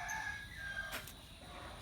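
Chickens cluck softly and a rooster crows faintly in the distance, a short outdoor farmyard moment with no talking.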